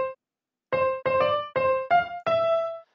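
Programmed synthetic tones play the opening phrase of the Happy Birthday melody: a short note, a pause, then six clean sustained notes in an even rhythm, the last held longest, alone and clear.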